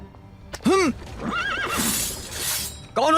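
A frightened horse neighs twice, with one loud shrill whinny at the start and another at the end, close by, with a rushing noise and faint hoof sounds between.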